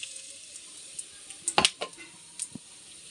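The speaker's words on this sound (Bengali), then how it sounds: "আমি ফোড়ন করে নেব গোটা গরম মশলা আর তেজপাতা দিয়ে দেব।" Whole garam masala and bay leaves hit hot oil in a pot for a thin mutton curry, making a brief faint crackle with a couple of sharper pops, then quiet.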